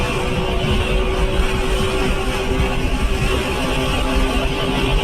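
A car engine drones steadily at less than half throttle while building speed, a loud continuous close-up roar with a constant buzzing tone and no break or lull across the whole stretch.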